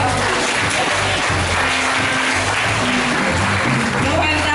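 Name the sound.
church congregation applauding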